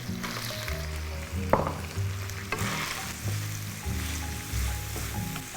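Sausage, friggitelli and peppers sliced into strips fry in a pan, a steady loud sizzle with stirring and clinks of a utensil, no voices.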